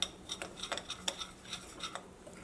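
A spoon mixes a batter of wheat flour and egg in a bowl, giving a quiet, fairly regular series of light metallic clinks and taps close by, with no voices.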